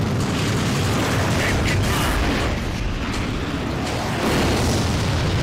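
An enemy aircraft explodes in the Ace Combat 3D flight combat game, a sustained roaring blast over steady jet and engine rumble, loud and continuous, with faint crackling bursts within the din.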